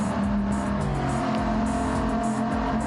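A Bugatti Veyron in a Gr-4 racing video game, its engine droning loud and steady as the car accelerates and revs, with a few brief tire squeals over the continuous roar.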